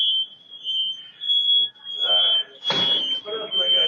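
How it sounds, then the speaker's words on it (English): A smoke alarm shrills with a steady high-pitched tone through the whole stretch, caught loud and close on a home doorbell camera while voices and movement sound underneath. "a lot of confusion, smoke alarms going off"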